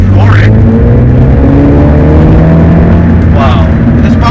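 A 2023 Mini Cooper S JCW with a manual gearbox, in sport mode and floored: the engine revs loud and close, rising in pitch through the gears, with a gear change near the end.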